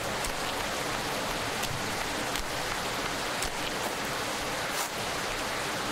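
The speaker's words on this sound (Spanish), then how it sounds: "Esperamos, que está lloviendo, también te lo digo." Steady, hissing video game rainfall in Farmer's Life, with occasional sharper drops, even and continuous at a low, constant level.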